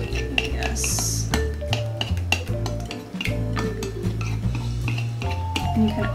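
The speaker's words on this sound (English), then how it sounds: "the chocolate is starting to melt, so I'm going to go ahead and start stirring it up." A spoon stirs melted chocolate into ganache in a bowl for a drunken cherry chocolate cake, giving repeated close scraping and clinking strokes against the bowl with a steady busy rhythm.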